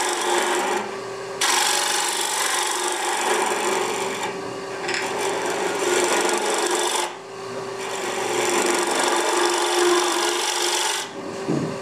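Carbide-tipped gouge cutting into wood, a steady loud rasping scrape in long strokes with short pauses between them, close and alone with no talk.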